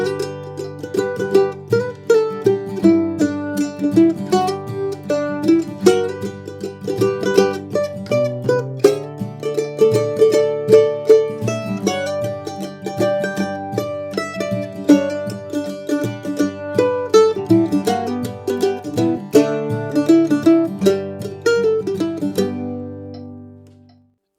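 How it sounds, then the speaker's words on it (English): Bluegrass-style mandolin solo of a tune, full of hammer-ons and double-stopped melody notes, played as a bright, busy, steady stream of picked notes, close and clear without any talking. "We're going to change that into a more bluegrass mandolin style arrangement."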